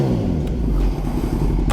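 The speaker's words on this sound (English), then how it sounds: "God, I love that exhaust." Kawasaki Z900 motorcycle fitted with an M4 exhaust, idling and blipping close by with a deep, throaty rumble and a loud, steady low growl.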